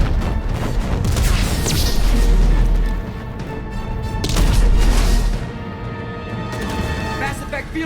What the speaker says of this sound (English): to fully destroy a collector ship, you gotta hit that thing more than once, even when the weapon is powerful as the Thanix cannon